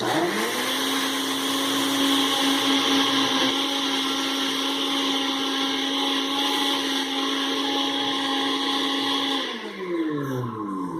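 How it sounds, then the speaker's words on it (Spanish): A kitchen blender runs steadily, blending smoothie ingredients with a little water into a fat-burning shake. The motor whirs loud and close for about ten seconds, then winds down in pitch as it switches off near the end. "Licuamos ya todos nuestros ingredientes"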